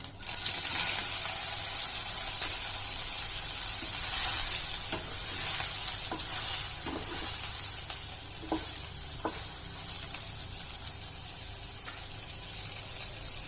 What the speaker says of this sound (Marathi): तेल झालंय आपलं छान गरम आता यात टाकूया आपण सोयाबीन वड्या